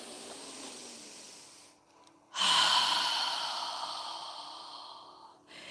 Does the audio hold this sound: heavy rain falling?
no